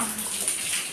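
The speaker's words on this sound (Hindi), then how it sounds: "टिक्कू पानी आ गया" Water running from a household tap into a tub or bucket, a steady broadband rush that fills the whole second at even loudness with no voices over it.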